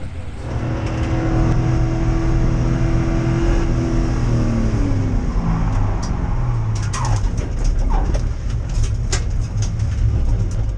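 A DIY C5 Z06 track car with re-proportioned brakes drives on a race track, its engine a loud, continuous close roar whose pitch climbs and falls through gear changes for the whole stretch.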